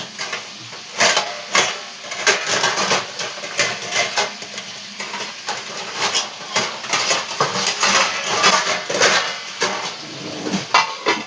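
Kitchen clatter of pots and utensils as a lid is set on a cooking pot of crabs reddening over the heat, with light sizzling beneath repeated metallic knocks and scrapes, close and fairly loud, no talking.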